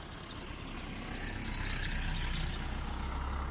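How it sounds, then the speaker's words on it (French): A car approaching and passing on a road, heard as a steady broadband engine and tire rumble that swells gently toward the middle and holds, with no talk. "Je vais vous faire écouter maintenant une voiture qui arrive, bien évidemment."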